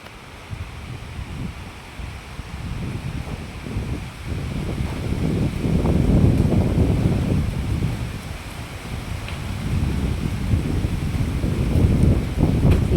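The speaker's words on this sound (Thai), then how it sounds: "ฟังเสียง ลม" Wind gusting through trees under a rumbling sky ahead of a possible thunderstorm, a steady broad rush that swells in the middle and stays fairly loud throughout, with no voices.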